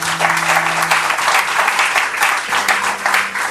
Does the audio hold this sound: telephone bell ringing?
no